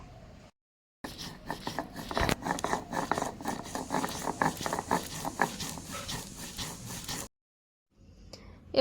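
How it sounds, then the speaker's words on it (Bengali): Mustard and poppy seeds with green chillies and a splash of water being ground by hand on a grinding stone, giving a steady run of rough rasping strokes, close and moderately loud, bracketed by brief silences. "এবার সুন্দর মিহি করে বেটে নিতে হবে।"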